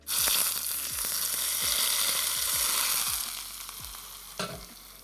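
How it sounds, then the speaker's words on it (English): Hot sesame oil poured over spring onion crackles in a bright, steady sizzle with soft periodic knocks, then quiets after a few seconds, with one brief louder splash near the end. "pour it over your spring onion, and the oil kind of cooks the spring onion and forms the sauce, and there's a nice little sizzle involved"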